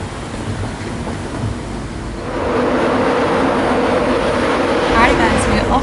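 Inside a moving passenger train bound for Edinburgh, a steady rumbling rush of wheels and carriage noise fills the cabin and grows louder partway through, with faint creaks and rattles.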